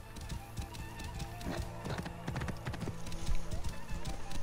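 A horse's hooves clip-clop in Assassin's Creed Origins, a rhythmic run of close taps over a low rumble that grows a little louder toward the end, with faint talk in the background.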